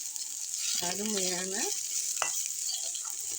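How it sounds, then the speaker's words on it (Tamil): Spices for soup rasam temper in hot oil, giving a steady bright sizzling hiss throughout, while a voice briefly speaks over it. "எண்ணெயில் நல்லா பொரியுது பாருங்க. நல்லா பொரியணும்."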